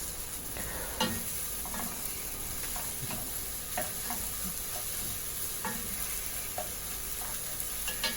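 Butter sizzling and frying in a pan on a medium flame for a moringa flower and duck egg burji, a steady close crackling hiss with occasional light spatters and clicks and no talking.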